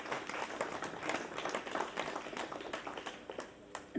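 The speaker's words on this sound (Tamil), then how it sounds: "மற்றவங்க எல்லாரும் கைத்தட்டிக்கலாம்." Audience clapping at a Tamil cooking event in Tenkasi, a dense, fairly faint patter of many hands that holds steady throughout with no one speaking over it.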